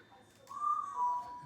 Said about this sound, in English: She's got a good whistle and a bad whistle.